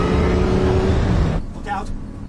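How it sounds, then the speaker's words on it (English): The Batmobile, Batman's tank-like armored vehicle, drives through a film scene with a loud engine roar that holds for over a second, then cuts away to quieter sounds. "Batman uses his tank-like Batmobile to help keep his allies safe."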